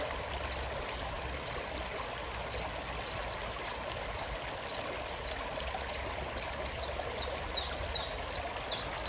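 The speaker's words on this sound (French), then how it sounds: "Nous pouvons entendre ce chant des oiseaux," Birds singing outdoors over a steady trickle of flowing water, with short chirping calls growing more frequent toward the end against the constant soft stream.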